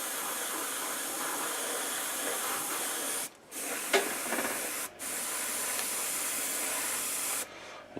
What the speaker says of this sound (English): So I'm going to just spray a thin coat over it.